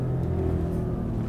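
A Mercedes C63 AMG engine in Euro Truck Simulator drones steadily at a high, sustained pitch, a continuous revving roar with no voices.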